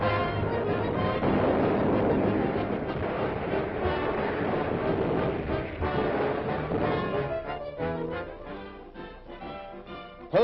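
Heavy naval bombardment of shore facilities and oil tanks in the Marshall Islands, 1941, a dense continuous roar of blasts and rumbling that thins toward the end, with broadband crackle throughout.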